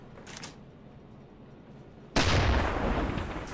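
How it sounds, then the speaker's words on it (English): In the submarine game UBOAT, a torpedo strikes a ship after a quiet stretch of faint background hum, bursting into a sudden loud, sustained explosive roar that rumbles on to the end. "Oh, the torpedo did hit him."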